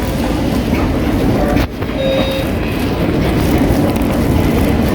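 A train pulls out of Central Station in Brisbane, Australia, with a steady rumbling roar of wheels on rails and faint squeals, continuous and close throughout.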